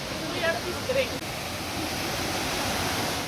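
A river rushes through the Watkins Glen gorge, a steady broadband roar of flowing water heard from a distance, with brief faint sounds over it near the start.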